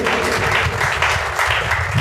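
A church congregation claps loudly and steadily together during a service, a dense, continuous wash of handclaps filling the room without pause.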